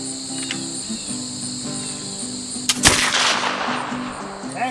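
Kentucky muzzleloading rifle fires after a hang fire at a 25-yard range: a single sharp, loud shot near the middle with a trailing roar, over steady insect-like buzzing outdoors.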